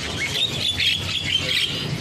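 Caged jalak kebo starlings at a bird market give harsh, squawking calls mixed with shrill chirps, several birds calling close by in overlapping bursts.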